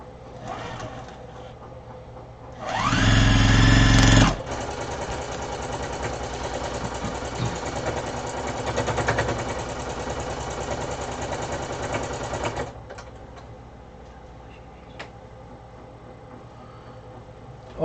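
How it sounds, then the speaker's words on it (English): A home sewing machine stitches a large grocery tote bag, opening with a short loud burst of fast whirring, then settling into a steady mechanical hum and clatter of about eight seconds before it stops, with quieter room noise after. "My sewing machine sounds like a washing machine?"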